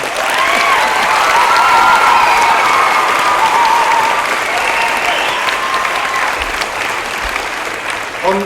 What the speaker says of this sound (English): let's give them a big clap as they come on